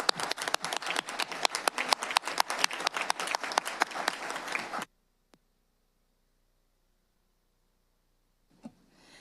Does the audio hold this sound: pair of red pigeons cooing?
no